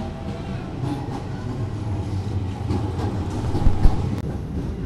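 Inside a carriage of the Argo Dwipangga express train from Jakarta to Jogja, a loud steady rumble of the moving train with rhythmic wheel clicks and a couple of sharper rattles near the end.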